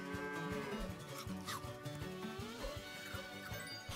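A cow moos in a video game, a drawn-out lowing call heard clearly and alone over quiet game sounds.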